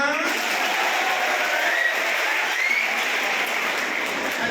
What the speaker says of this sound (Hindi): तो योगी जी के लिए तालियां